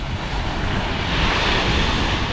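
Steady rush of sea surf at a beach, continuous wash of waves with wind noise buffeting the microphone, no voices.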